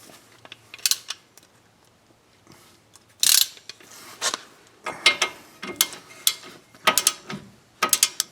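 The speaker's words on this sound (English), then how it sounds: "let me torque this down" Torque wrench ratcheting as it tightens a bolt on the steering rack of a 2004 Toyota Sienna, close clicking ratchet strokes coming in short irregular bursts with brief pauses between them.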